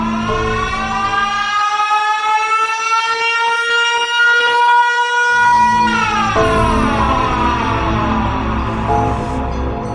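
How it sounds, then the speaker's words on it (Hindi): A loud siren wails continuously, its pitch rising and then sliding down again in a long, piercing sweep with no other sounds. "और तभी सायरन हेड जोरदार आवाज निकालकर गुल्ली बुल्ली और शॉन के नाक में दम कर देता है।"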